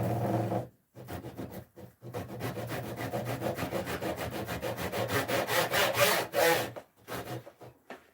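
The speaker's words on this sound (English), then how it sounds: "I'm just going to cut this roughly in half." A hand saw cuts through a piece of wood in steady back-and-forth strokes, close and fairly loud, with brief pauses at the start and a few slower strokes near the end.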